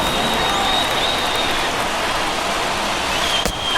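Steady, loud roar of a baseball stadium crowd at a Cardinals at Giants game, a dense continuous wash of cheering and noise with no clear talk.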